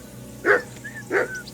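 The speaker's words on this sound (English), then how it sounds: "Call off that damn dog before he wolfs down the last of our mates." Two sharp dog barks about half a second apart, moderately close, over a low ambient bed in the medieval video game Kingdom Come: Deliverance II.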